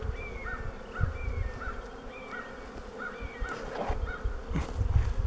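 Honeybees buzz around an open hive during a hive split, a close, continuous drone with faint rhythmic chirps and soft knocks and rustles from the hive being handled.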